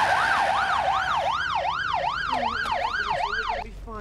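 An ambulance siren wails close by and loud, rising and falling in a rapid, even cycle, then cuts off near the end.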